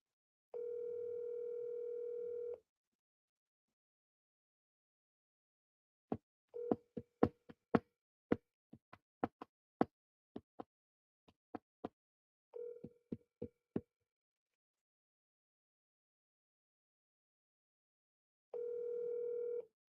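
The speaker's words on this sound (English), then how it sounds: "let me see if Christina answers the phone" A telephone call rings out unanswered: bursts of steady ringback tone at the start and end, with a series of sharp clicks and short tones in between. No one speaks.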